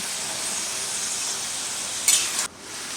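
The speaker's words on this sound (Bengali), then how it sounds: "মাংসটা লাল করে ভেজে নেবো" Duck meat frying in a pan, a steady loud broad sizzle close by, with a brief sharper burst of spitting near the end before the hiss drops off suddenly.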